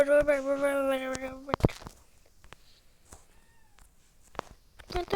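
A cat gives one long, clear meow close by, followed by near silence broken by a few faint clicks and small noises.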